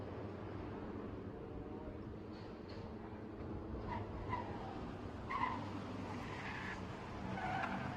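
Race car driven fast around a track at the Bangsaen Grand Prix street circuit, a distant continuous engine roar with faint tire squeals and passing surges, quiet throughout with no talk.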